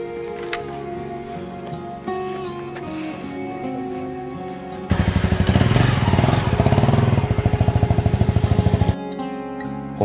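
A motorcycle rides along a rural road toward terraced rice fields. The engine hums steadily, then louder rapid, chugging engine pulses take over for several seconds before easing back. No one speaks.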